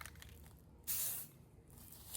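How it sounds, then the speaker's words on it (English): A short burst of aerosol spray paint aimed at a piece of furniture being upcycled, a single hissing pass of under half a second, close and fairly loud over a quiet outdoor background. "we're going to spray in even strokes back and forth across this"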